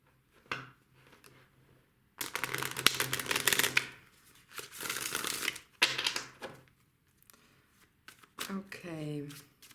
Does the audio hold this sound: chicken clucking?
no